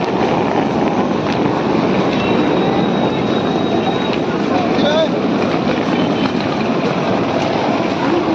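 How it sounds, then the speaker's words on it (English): A train rumbling steadily past at a train station in the rain, with continuous rolling noise and a thin high squeal, loud and close throughout. "This is a train station."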